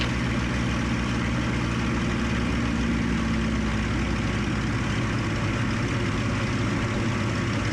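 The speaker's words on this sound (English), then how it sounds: "So I'm just going to reduce the engine power." Piston engine of a Spitfire Mk IX in level flight at about 4,000 feet, throttled back to a steady, even droning hum heard from inside the cockpit, loud and continuous.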